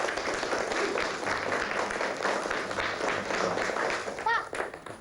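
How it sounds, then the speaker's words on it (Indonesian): Children in a classroom give a lively round of applause for a classmate, dense clapping sustained throughout, with some voices mixed in. "Sekarang tepuk tangan yang meriah buat Aswin."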